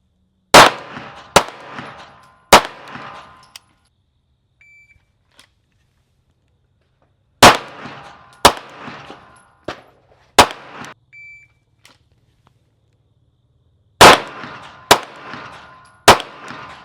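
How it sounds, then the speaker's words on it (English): Pistol fired in a failure-to-stop drill from the holster, two to the chest and one to the head, heard as loud close sharp reports in tight clusters of three, with quiet pauses between strings and faint beeps from a timer. "So drawing from the holster, 2 to the chest, 1 to the head, in a time period of 6 seconds."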